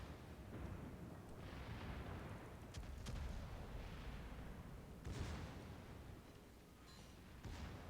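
Torpedo rack blown up aboard a ship in a naval battle game, with muffled booming blasts and crackling explosions rumbling over a low, continuous battle din.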